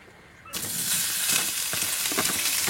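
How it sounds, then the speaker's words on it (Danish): Bacon fries in a pan inside a Combi-Camp Valley tent trailer, a dense crackling sizzle that starts abruptly and carries on with loud pops and spits close by. "du steger bacon ind i din Kombicamp"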